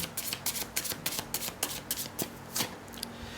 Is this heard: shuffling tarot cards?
yes